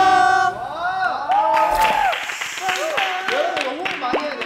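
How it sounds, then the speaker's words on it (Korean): A crowd cheers, whoops and claps to welcome a school band performance on stage, loud and lively, with shouting voices rising and falling over the clapping. "큰 함성과 박수로 맞아주세요"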